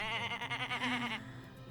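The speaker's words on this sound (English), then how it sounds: "We have a new sheep on the island." A single wavering, quavering sheep bleat from a video game, fairly clear and close, lasting about a second before fading into a soft background hum.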